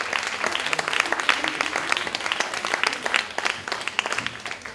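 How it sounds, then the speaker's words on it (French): An audience at a salon event claps continuously, a moderately loud patter of many hands with slightly uneven bursts. No voices rise above it. "Sous vos applaudissements"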